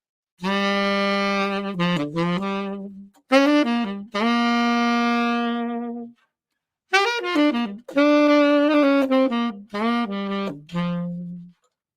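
A tenor saxophone plays a phrase of sustained notes and quicker runs, with short pauses between bursts, solo and fairly loud.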